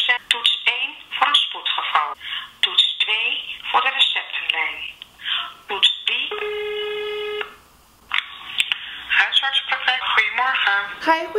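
A telephone call to a doctor's office, with a steady ringback tone near the middle surrounded by talking.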